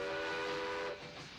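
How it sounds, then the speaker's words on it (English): A train whistle sounds alone as a steady multi-tone blast for about a second, then cuts off, leaving a faint rumble behind. "when Bob heard the whistle of the train"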